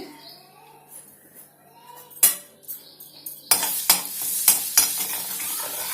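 Coriander powder and chilli powder are stirred in a pan with sharp metal spoon clinks and scrapes, sparse at first and then quicker, over a soft sizzle with brief faint talk.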